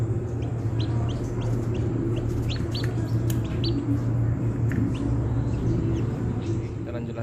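Chicks hatching in an egg incubator on the eighteenth day, with eggs cracking open, give dense, continuous high peeping and chirping over a steady low machine hum, with no pauses.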